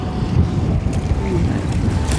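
Wind blows hard across a fishing boat at sea, a loud, steady rumbling roar with no letup for the whole moment.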